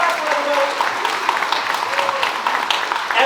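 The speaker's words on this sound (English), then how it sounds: "So let's all give a nice round of applause for all of them." Families and guests at a high school graduation ceremony clap together in warm, steady applause filling the hall, with faint voices and cheers mixed in beneath the clapping.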